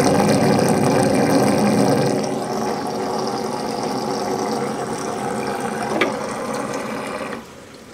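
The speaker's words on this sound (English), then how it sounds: "Skimmers can be quite noisy" A protein skimmer on a reef aquarium runs noisily, giving a steady close mechanical hum with a bubbling, rattling texture that drops slightly in level partway through, alone without speech.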